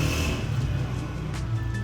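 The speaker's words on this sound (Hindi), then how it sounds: "आराम से नहीं गुजर सकते यार ये लोग बाइक पे?" A motorbike going by on a hot outdoor street, a mid-pitched engine drone with a brief revving swell, fairly close and loud for under two seconds.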